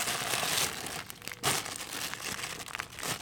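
A plastic plant feeder refill packet is crinkled and handled up close, with bursts of crackling and rustling broken by short pauses, fairly quiet overall.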